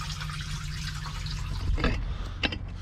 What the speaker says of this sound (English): Hey, somebody's flushing the toilet.